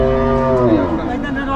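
A large black cow at a Qurbani cattle market gives a loud, close, drawn-out moo with a falling pitch, heard on its own without talk.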